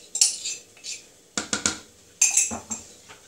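Clinking of a utensil against a pot while a solidified mixture is stirred into boiling water, several short metallic knocks and scrapes in uneven bursts, close and fairly quiet.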